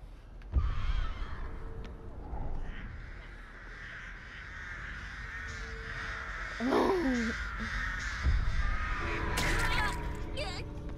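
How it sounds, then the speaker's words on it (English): Crows cawing in a video game, a few harsh caws rising out of a murky, droning game soundscape with breathy sighs and gasps, fairly faint and mid-distance. "he ran away from the birds"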